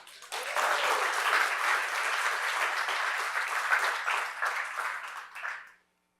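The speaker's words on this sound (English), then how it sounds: "give me a just enormous round of applause to welcome Devin to the front" A large audience bursts into sustained, dense applause to welcome a presenter to the front at a developer session, holding steady for about five seconds before tapering off.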